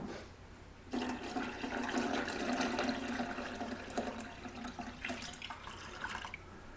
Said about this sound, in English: And then I'll get water and fill it up past the top,